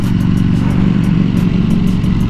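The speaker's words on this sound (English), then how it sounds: "That bike is loud, man." A Ducati Panigale V4S superbike engine runs loud and close, a steady, throaty roar with a rapid pulsing rhythm, no voices over it.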